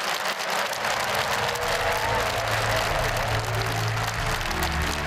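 Thunderous crowd applause and cheering fill a large hall after a South Korean presidential address, a dense continuous roar that holds steady throughout.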